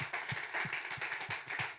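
A church congregation claps during a Sunday service, fairly quiet steady applause with faint rhythmic low thumps, heard from a distance.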